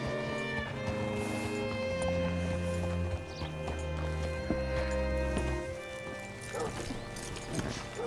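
Horse hooves clip-clopping in Red Dead Redemption 2, quiet steady hoofbeats under a soft musical score, with a few sharper knocks near the end.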